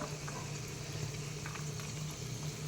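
Carrots sautéing with chillies in a pan over a low flame for an instant pickle give a steady, close crackling sizzle that runs unbroken throughout, over a faint low hum.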